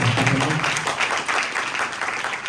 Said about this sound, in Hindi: ਅਸੀਂ जोरदार तालियां ਦੇ ਨਾਲ ਉਹਨਾਂ ਦਾ ਸਵਾਗਤ ਕਰਾਂਗੇ